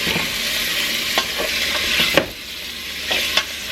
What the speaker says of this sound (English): I'm just going to kind of move these around in the pot here until they're nice and brown on all the sides